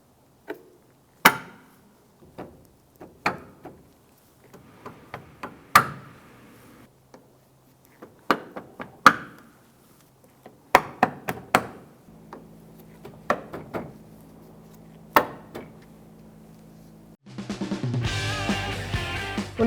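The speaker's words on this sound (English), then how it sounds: "So I'm just going to install our clips all the way across the top of the bumper." Plastic push pin clips snapped one by one into the top edge of a 2008-2013 Nissan Rogue bumper, producing sharp, sparse clicks at irregular intervals, ending in a burst of louder broadband rustling.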